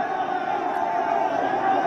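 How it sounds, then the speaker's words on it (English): Crowd of protesters on the road toward Abuja during an Occupy National Assembly protest at Kugbo, Asokoro, heard as a steady, dense roar of many voices that stays loud and even throughout without a clear break. "apparently, this is a crowd of people that was going to"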